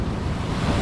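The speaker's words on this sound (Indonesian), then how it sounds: "Ombaknya luar biasa, bro. Ombaknya besar sekali, guys." Big ocean waves breaking at Surabrata beach, a dense, loud roar of surf with rumbling low swell and wind noise buffeting the microphone, continuous and close.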